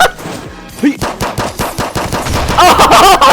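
Rapid automatic gunfire in the Call of Duty video game: a loud, continuous stream of sharp shots, broken only by a short pause before the firing resumes.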